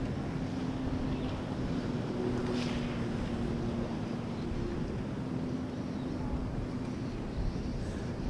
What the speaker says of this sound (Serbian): A baš je aktivan danas saobraćaj na vodi, zato što nema vetra.